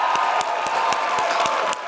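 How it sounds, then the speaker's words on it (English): Audience clapping and applause at a motivational talk, a steady dense wash of many hands with a few sharper claps standing out, sustained and fairly loud throughout. "All right, clap it up."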